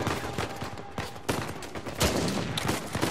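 Rapid volleys of gunshots in Uncharted 4 during a firefight in Madagascar, loud, dense and continuous with sharp bursts throughout and no speech.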